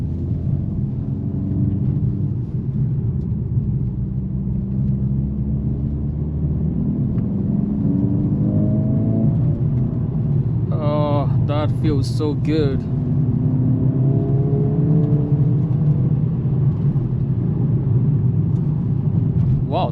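A 2025 AMG CLA 45 S coupe with 416 hp, driven in Sport Plus mode, gives a steady low engine and road rumble from inside the cabin throughout, with a voice speaking over it.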